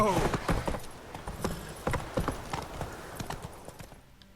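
Roach, Geralt's horse in The Witcher 3, gallops with rapid, loud hoofbeats close by in a driving rhythm that eases and fades toward the end, with a voice speaking briefly at the start.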